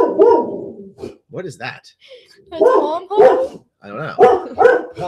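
A dog barks inside a house in several loud, close bursts, with people talking between the barks.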